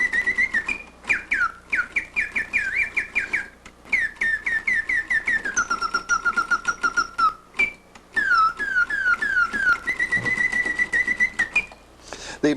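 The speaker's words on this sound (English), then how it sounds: "This is a bird cage, gilded bird cage, with two birds on a twig and two little babies in the nest crying" Clockwork gilded bird cage automaton with two birds on a twig and two chicks in a nest, its bellows-blown whistle producing bright repeated chirping trills and slides in bursts with short pauses.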